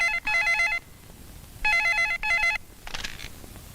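A telephone rings with a bright electronic trill in two loud bursts separated by a pause, in a scene from a Hindi film, with faint background noise between the rings and no voices.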